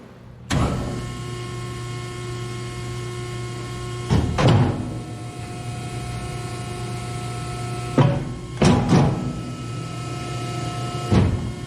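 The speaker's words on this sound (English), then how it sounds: "We will show you how the cut is made on the back part of the machine" An industrial metal shear in a welding shop runs with a steady loud motor hum, broken by several sharp heavy clunks as the blade cycles and cuts, close by and without speech.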